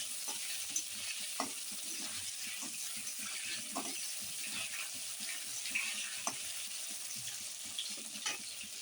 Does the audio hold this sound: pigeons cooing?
no